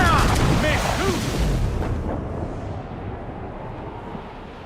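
Ship cannons fire in Assassin's Creed Black Flag, a loud booming blast that rumbles and fades over several seconds, with shouted voices over the start.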